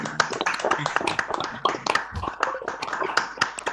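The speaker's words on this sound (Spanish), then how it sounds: "yo propongo un segundo, aunque sea, pero de abrir y que se escuche el aplauso, porque fue una charla brillante, maravillosa" Scattered applause after a talk in an online writers' meeting comes through as distinct individual claps, irregular and somewhat thin, mixed with a few overlapping voices.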